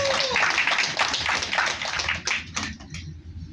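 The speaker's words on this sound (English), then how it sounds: "give a big round of applause" A room full of Rotary club members at an installation ceremony gives a dense, steady round of applause that thins out into scattered final claps near the end.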